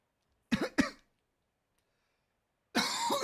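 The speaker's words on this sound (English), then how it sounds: "Me trying to cough" Two quick coughs, then a pause of silence, followed by a longer burst of coughing, close and fairly loud.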